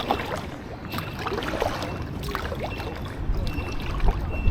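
A kayak paddled along a sheltered stretch of water in Scotland, with soft paddle splashes and drips under steady, breezy outdoor noise.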